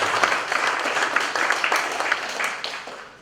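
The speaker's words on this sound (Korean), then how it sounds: "수고해주신 토론자 모든 분들께 큰 박수로 감사의 뜻을 전합니다" Clapping rises from the audience of a policy forum to thank the panelists, a lively round of many hands with distinct nearer claps, gradually fading toward the end.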